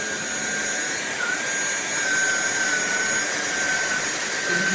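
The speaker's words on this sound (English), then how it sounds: "we'll go ahead and vacuum here" An INTETURE cordless vacuum cleaner, a 550W 45Kpa model, runs on its high setting and picks up cat litter, giving a steady, loud whine with a sharp tonal edge that holds close and unbroken throughout.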